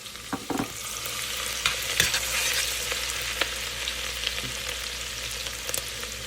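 Garlic sizzles in hot oil in a pan while a spoon stirs it, giving a steady close crackle with scattered scraping clicks throughout and no voices.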